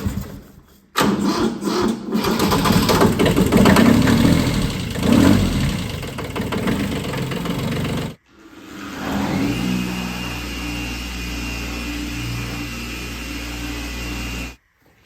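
Kubota B1502 compact tractor diesel engine cranks and catches, revs roughly for several seconds, cuts out briefly, then restarts and settles into a steady, close idle with a low, even rumble.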